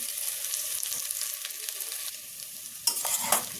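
Potatoes with turmeric and chili sautéing in a pan: a steady, close sizzle with stirring scrapes, then a louder clatter of spoon against pan near the end.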